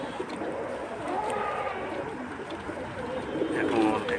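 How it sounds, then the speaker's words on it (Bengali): Long-bodied pigeons coo softly in a series of low, throaty calls, fairly quiet against faint background noise. "কবুতরটা আসলে অনেক ভালো কবুতর, অনেক লম্বা সাইজের"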